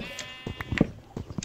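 Sheep bleat in short, choppy calls, several brief bleats overlapping at moderate loudness with no talk over them.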